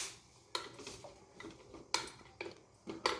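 Metal utensil clinks against a bowl as steamed undrallu offerings are served, several sharp scraping taps at irregular intervals in a quiet kitchen.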